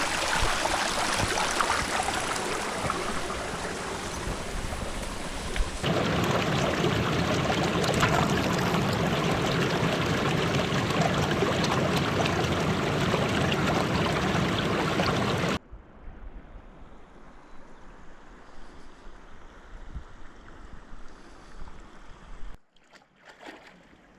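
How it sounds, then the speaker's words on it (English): A stream of water flows across a hiking trail, rushing loud and close as a broad, steady wash, then dropping to a quieter, more distant trickle before cutting off near the end. "the streams cut right through the middle of the trail"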